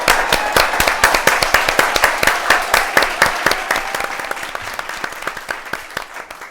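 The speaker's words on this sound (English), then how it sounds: "Let's give her a round of applause." An audience claps and cheers steadily as Jamie Chamberlin is welcomed onto a stage. Dense, sustained applause stays loud and even, easing slightly toward the end.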